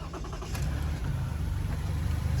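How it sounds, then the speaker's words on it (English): A 2019 Toyota Kluger GX starting up and settling into a steady idle, with a low, continuous engine rumble that holds close and fairly loud throughout, with no voices. "Turn the car on."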